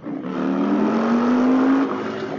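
An Indian Chieftain motorcycle with a 126 cubic inch engine revs loudly and steadily up in pitch, a close, continuous rising engine roar with no talk.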